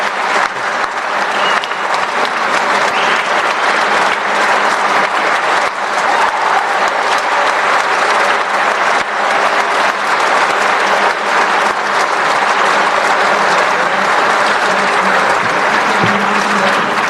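Sustained, loud applause from a large audience at the close of an evening session at the India Startup Festival 2023, a dense even wash of clapping with no break or speech.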